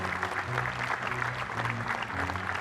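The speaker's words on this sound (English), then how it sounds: "Let's give a big round of applause to the refs, the volunteers, the rakers, everybody that it takes to make this happen." Crowd applause at the Cincinnati Open beach volleyball event for referees, volunteers and rakers, a short steady patter of clapping over a low hum of amplified sound.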